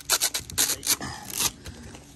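A car wheel rim is hand-sanded with 220-grit sandpaper, giving quick, rhythmic rasping strokes, about half a dozen close and loud scrapes in a row.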